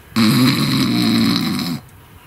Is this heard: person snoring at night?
yes